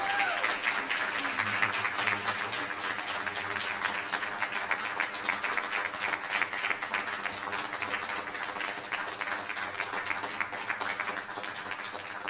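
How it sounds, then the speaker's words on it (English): Loud, sustained applause from a school board meeting audience honouring an award recipient, dense clapping steady for about twelve seconds with a voice briefly heard under it. "please join me with a loud round of applause for Andrea Bruinger"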